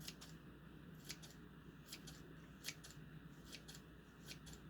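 Kitchen scissors snipping fresh herbs such as cilantro for homemade mango salsa, sharp clicks repeating in irregular bursts at close range over a steady low background hum.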